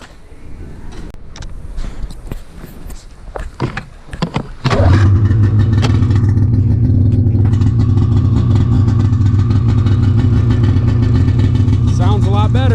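A 2019 Polaris Assault 850 snowmobile with an SLP trail can exhaust starts after some handling clatter and then settles into a loud, steady idle. It blips briefly in the last second.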